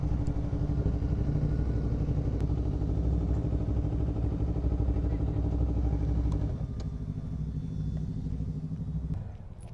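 Honda CBR 250RR motorcycles ride on a Klang Valley highway, with a steady, loud engine drone and wind rumble that eases slightly near the end, and no talk.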